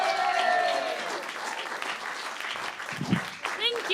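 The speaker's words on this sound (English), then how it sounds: "would you please welcome with a big round of applause, which begins now" An audience applauds a comedian at a stand-up comedy final, steady clapping that fills the room and fades slightly, with voices and whoops over it toward the end.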